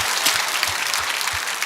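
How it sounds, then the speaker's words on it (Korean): Church congregation clapping at a Sunday worship service, a brief burst of loud, dense applause with a few heavier claps standing out in the rhythm. "Let's give him a round of applause."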